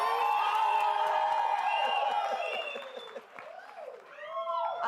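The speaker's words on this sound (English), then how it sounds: "Can we stand up and give her a round of applause that a leader like her deserves?" An audience applauds and cheers loudly, with whoops and shouting over sustained clapping that dips briefly before surging again.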